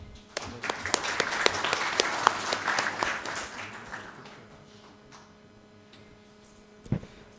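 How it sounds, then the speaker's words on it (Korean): Audience applause at a policy forum on spinal cord injury rehabilitation: a few seconds of brisk, fairly close clapping that thins out and fades, ending with a couple of isolated claps after a near-silent gap. "다시 한번 큰 박수 부탁드립니다"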